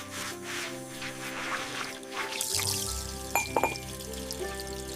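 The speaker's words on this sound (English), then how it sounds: "I am washing the dishes now." Dishes being washed by hand at a kitchen sink, with soft trickling, pouring and dripping water and light squishy rubbing. The sounds are quiet and close over a faint, steady tonal background.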